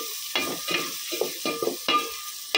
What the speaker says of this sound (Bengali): পেঁয়াজ তেজপাতা দিয়ে দিলাম, তো পেঁয়াজটা আগে তেলের সাথে ভেজে নিব